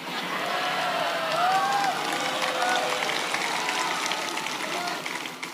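Audience applause and cheering at an Islamic sermon, a steady broad wash of clapping from a large crowd, sustained and fairly even throughout with a slight swell in the middle.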